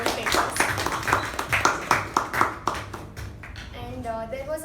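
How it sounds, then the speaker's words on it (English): A small group at a club meeting claps for the members who took on roles, with distinct individual hand claps that start brisk and thin out toward the end, followed by a hint of voice. "Let us have a huge round of applause for all our role takers."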